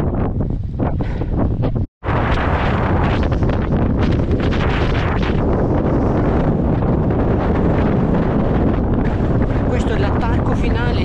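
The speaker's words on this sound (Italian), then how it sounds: "Riesco a camminare, il vento mi butta giù" Strong mountain wind roars and buffets the microphone almost without pause on an exposed ridge near Monte Siella in the Apennines, loud and close, with a person speaking beneath it.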